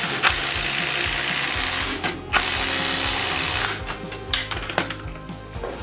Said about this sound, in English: now let's get these bolts tightened up for this new U-bolt